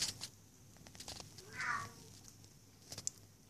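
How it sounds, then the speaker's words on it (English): A cat meows near a small 12-volt kettle setup powered by a LiFePO4 battery, giving a single short, moderately loud cry in the middle of a quiet hum, with faint clicks before and after. "and the cat's going nuts"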